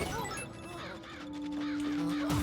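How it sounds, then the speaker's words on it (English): Crows cawing in the video game Luigi's Mansion 2 HD, repeated harsh caws over game music, with a voice talking partway through. "Stupid birds, stop rotating around."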